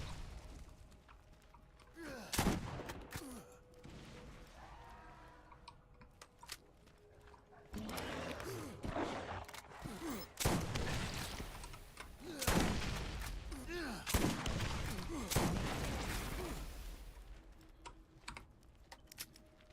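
Gunfire from a weapon in the Borderlands video game, with bursts of sharp shots in irregular clusters over steady game ambience; the player jumps and fires, and a voice speaks at points.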